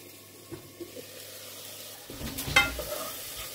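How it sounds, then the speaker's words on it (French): A Spanish-style chicken dish starting to simmer in a pan with a soft, steady low sizzle, and a brief clatter of stirring partway through. "Là, ça commence à mijoter."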